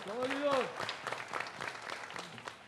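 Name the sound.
studio audience applause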